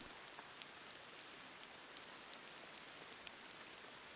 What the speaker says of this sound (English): Sun's going down, rain's coming out.